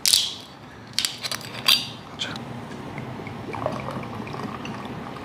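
Soju and beer poured from high up into a glass to mix somaek, splashing pours in short bursts followed by softer trickling and fizz.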